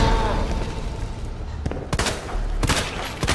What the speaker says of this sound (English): Oh wait, I have grenade.